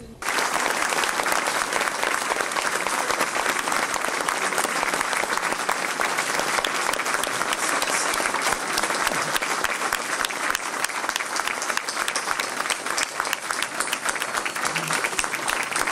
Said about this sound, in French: Une reconnaissance marquée par des applaudissements mérités